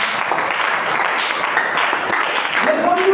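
A church congregation applauds loudly, a dense, steady wash of clapping that runs the whole time, with voices mixed into it.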